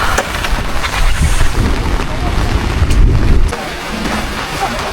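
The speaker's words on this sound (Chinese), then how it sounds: "这里真是说下雨就下雨，说刮大风就刮大风" Heavy wind and rain lash a campsite on the Tangbula grassland in Xinjiang, a loud, steady roar of gusts buffeting the microphone with broadband rushing that eases near the end.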